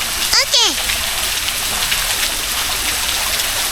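A small waterfall at Wat Khao Chomphu temple in Ban Bueng, Chonburi, Thailand, running at low flow, gives a steady broadband rush of falling water throughout, with a brief bird-like chirp early on.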